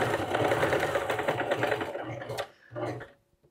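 A sewing machine runs steadily, stitching the last seam of a traditional quilt block, its rapid motor hum and needle chatter continuous for about two seconds, then pausing and resuming in a short burst before stopping.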